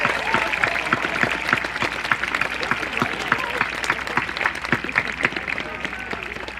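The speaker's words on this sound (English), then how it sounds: "Let's give them a round of applause" Steady applause from a high school graduation audience for the school's staff, Rancocas Valley Regional High School's Class of 2015 ceremony, a dense, sustained patter of many hands filling the hall for several seconds at moderate loudness.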